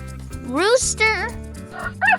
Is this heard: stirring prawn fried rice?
no